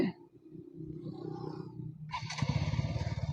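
A KTM Duke 200 motorcycle runs just after being refuelled with a litre of petrol: a low idling hum that swells into a louder, rougher, buzzing rev near the end.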